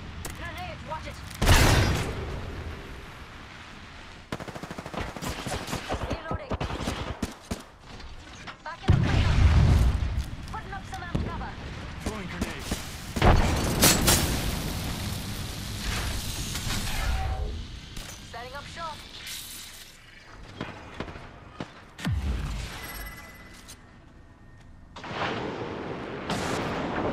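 In the Apex Legends video game, a grenade blast booms among bursts of gunfire and mechanical clatter. Heavy impacts recur through a busy, loud battle while players talk over the action.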